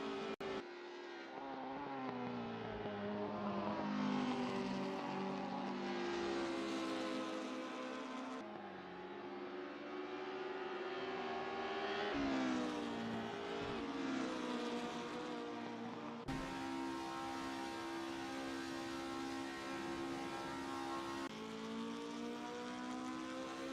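Race car engines in a sim racing game scream at high revs, pitch climbing through gears and dropping on shifts in repeated waves, loud and steady without talk.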